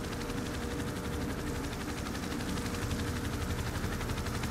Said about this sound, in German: Da schraubt wieder ein Hubschrauber draußen rum.